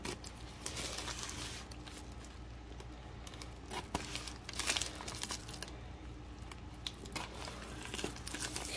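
Close crinkling and rustling of a plastic mail package being opened with scissors, with scattered snips and crunches, continuous handling noise and no voices.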